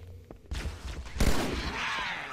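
A charged pistol shot in Halo: Combat Evolved lands as a sudden loud burst, followed by more gunfire and an ongoing clatter of combat. No one speaks.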